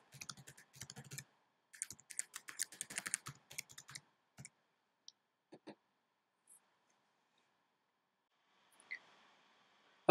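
A password is typed on a computer keyboard in quick bursts of light key clicks, then sparse single taps trail off into near silence, close and quiet.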